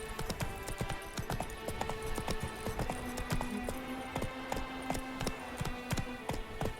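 Horse galloping in The Witcher 3: Blood and Wine, rapid rhythmic hoof clip-clops running steadily throughout over a low game ambience, no voices.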